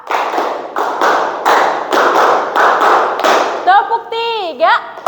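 A class of students claps together in unison, a steady run of about eight loud, close clap bursts in paired rhythm, followed by a voice speaking briefly at the end.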